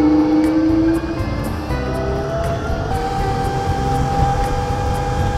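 An electric motor in a Toyota Stout EV conversion strains up a hill, a loud steady drone with a thin whine that climbs in pitch throughout, and no voices.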